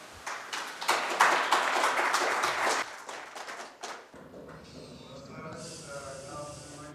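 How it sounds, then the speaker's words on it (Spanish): Audience applause at a mining technology conference, a dense broadband patter of many hands that swells for a few seconds, then tapers off and gives way to quieter room sound. "Aplausos, por favor."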